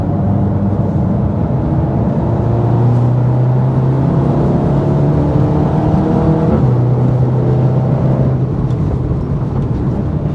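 A loud, steady BMW M4 engine drones for several seconds, its pitch shifting as it drives past on the Nürburgring, with no one talking.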